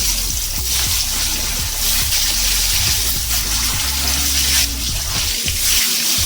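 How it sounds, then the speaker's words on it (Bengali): Boiled potatoes fry in oil with turmeric in a pan for a vegetable biryani. A loud, steady, close sizzle with crackling hisses runs throughout, with no talking. "এগুলো ভেজে নেব।"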